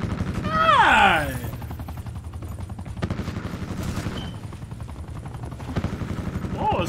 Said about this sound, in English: Dude got another attack chopper, bro.